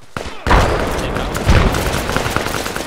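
Gunfire in the tactical military shooter Project Reality, set in Afghanistan: a sustained volley of overlapping shots and booming thuds, loud and dense for nearly three seconds after a brief quiet start.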